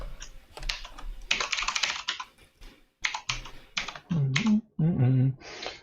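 Fast computer keyboard typing rattles in dense clusters of close clicks, broken by brief pauses, and a voice speaks over the last part.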